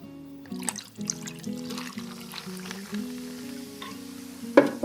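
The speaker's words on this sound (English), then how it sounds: "putting 50 ml over ice, and then adding your favorite tonic water" Tonic water trickles into a glass of gin over ice in a steady, gentle pour beneath soft background music, ending with a sharp little clink.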